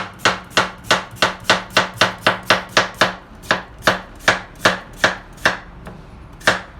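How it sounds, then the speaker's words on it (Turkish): Steady, rapid knife chops on a cutting board, thinly slicing potatoes, about twenty crisp strokes in quick rhythm, slowing and thinning out toward the end. "Patatesleri ince ince doğruyoruz."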